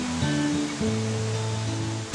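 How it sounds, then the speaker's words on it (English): White water rapids of the upper Deschutes River at Big Eddy in Central Oregon, a broad steady roar of rushing water, close and continuous, with a tonal hum layered over it. "these are the Big Eddy Rapids right here"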